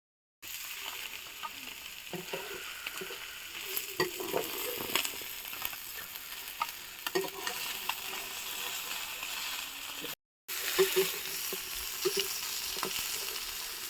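Red pomfret fish frying on a tawa over a medium flame, Mangalore style, a continuous close crackling sizzle with occasional spits and pops, briefly cut off near the end before resuming.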